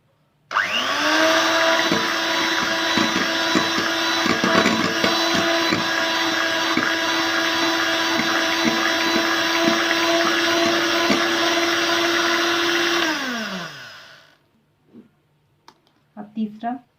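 An electric hand mixer beats eggs for cake batter, whirring at a loud, steady pitch for about thirteen seconds before winding down. A few faint clicks follow.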